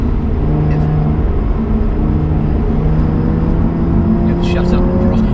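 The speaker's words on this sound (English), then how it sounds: "love the fact you can hear a bit of the engine behind your head as well, behind your back" Engine of a Lotus Evora heard from the driver's seat on a wet road: a steady, droning low hum with a faint tonal whine, continuous and fairly loud throughout, with no speech over it.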